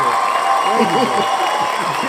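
A live studio audience claps and cheers to celebrate a team making the playoffs, a dense, steady wash of applause and shouting voices that holds evenly at close range from start to finish.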